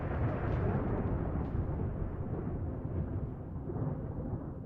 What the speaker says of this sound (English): You got some in real life rain going on to go along with my simulated thunder,